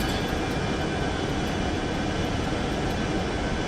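Boeing 707 jet engines in a flight simulator game during acceleration after takeoff, a dense, steady roar holding at constant loudness with no voices.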